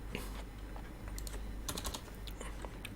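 Someone types code on a computer keyboard, a faint close patter of key clicks in uneven bursts with a denser flurry near the end over a low background hum.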